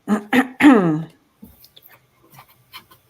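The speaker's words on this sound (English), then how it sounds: "I keep clearing my throat" A few harsh, voiced throat-clearing bursts up close, followed by quiet scattered rustles and small taps.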